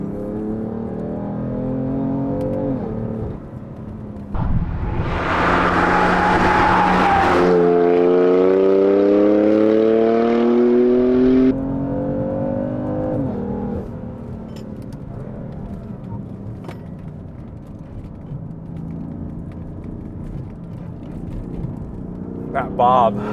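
BMW F80 M3 engine pulling hard on a canyon road in Sport Plus mode, its note climbing through rising revs, loud from inside the cabin, with a voice talking at times over the drone.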